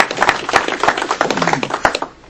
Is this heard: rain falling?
no